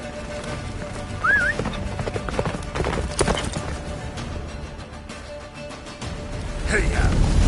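Roach the horse gallops in The Witcher 3, close hoof clip-clops pounding in an uneven rhythm under a whinny and bursts of wind, with voices shouting over the ride.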